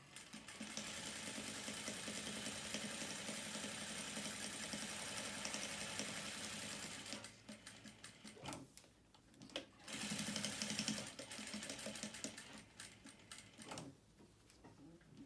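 A sewing machine runs steadily stitching a fabric face mask, guided along the inside edge of the presser foot, with a long continuous whir that pauses briefly and starts again, close and fairly quiet.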